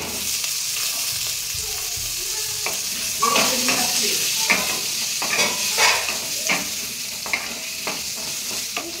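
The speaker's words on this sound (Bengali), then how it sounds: "তারপরে এর মধ্যে আলুগুলো ভেজে নেব।" Potatoes frying in oil with dried chilli and bay leaf, a close steady sizzle broken by repeated sharp stirring scrapes and knocks of a spatula in the pan.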